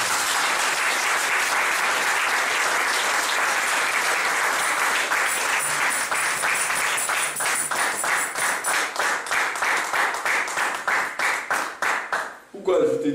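A church congregation breaks into sustained applause, dense and loud at first, then thinning into more distinct individual claps before fading out at the end.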